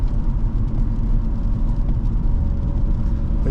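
A 2014 Ford Taurus Police Interceptor with a 3.7L engine drives along, its cabin filled with a loud, steady low engine and road rumble.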